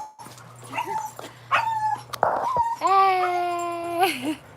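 Several dogs bark, yip and whimper close by in short bursts, ending in a long, drawn-out whining howl, with no people speaking.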